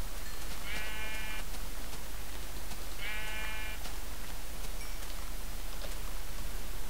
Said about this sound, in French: Je tue des moutons pour récupérer la laine et faire un petit lit.